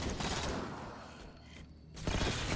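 Suppressed gunfire in Halo 4 sounds as a dense, muffled stream of rapid shots that briefly thins and then surges back, steady and close with no talking over it.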